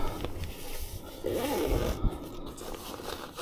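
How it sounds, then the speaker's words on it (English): A zipper is pulled closed on a fabric back seat extender for a dog, one rasping zip run lasting about a second, with soft handling rustles and thumps before and after. "And now I'll zip this up."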